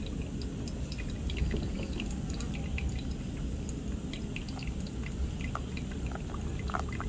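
Hot water poured steadily over Ethiopian coffee grounds in a pour-over brewer, a continuous close trickling and splashing with faint drips, no talking.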